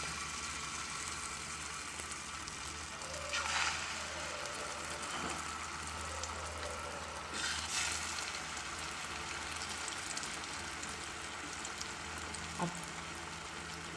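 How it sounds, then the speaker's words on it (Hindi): Potato cutlets (aloo tikki kebabs) frying in hot oil, a faint steady sizzle with occasional soft pops and clicks, no talking. "अब ये फ्राई हो रहे हैं"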